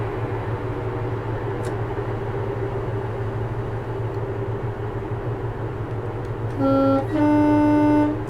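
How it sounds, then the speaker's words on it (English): A diesel train horn in Train Simulator 2021 on the Cornish Main Line between Plymouth and Penzance sounds twice, a short blast then a longer one, loud and clear over the steady low rumble of the engine. "let's sound the horn twice"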